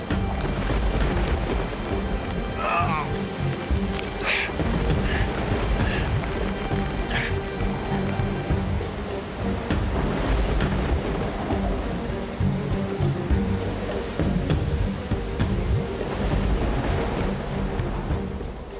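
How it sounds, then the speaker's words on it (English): Heavy rain pours steadily through a wilderness storm in Montana, a dense continuous wash with occasional low rumbles that may be distant thunder. "the relentless storm and the slippery ground are taking their toll on Bruce."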